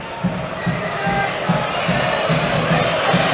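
Crystal Palace home supporters roar and chant at a Premier League football match against Leeds, a dense stadium crowd with rhythmic chanting pulses, loud and continuous.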